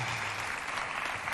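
Studio audience applause for a guest on a Chadian television talk show, a steady dense wash of clapping that fills the whole moment without any talk over it.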